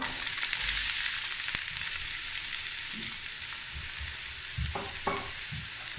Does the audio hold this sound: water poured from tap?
no